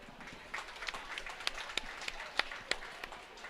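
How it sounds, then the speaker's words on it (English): An audience at a county fair cattle show applauds for the kids showing stocker feeders and breeding heifers. The brief, scattered clapping is moderately close, with light crowd murmur underneath. "Let's give these kids a round of applause"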